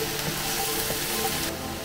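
Mushrooms sweating in butter in a hot pan give a steady, loud, close sizzle with faint stirring scrapes, no voices over it.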